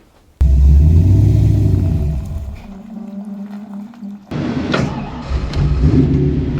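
Old Ford Mustang V8 engine barking to life and settling into a choppy, lumpy idle, close and loud, dipping briefly before a second burst of rough rumbling.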